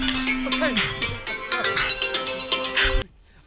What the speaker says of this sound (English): Oh wait, I got a phone call.